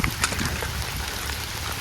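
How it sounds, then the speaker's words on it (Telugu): Steady rain patters all around on farmland near hills, a dense hiss of drops with a few louder splats close by. "వర్షం పడుతుంది"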